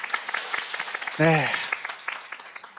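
Audience applause at a Korean political policy event, a steady patter of clapping running throughout with a voice speaking briefly over it partway through.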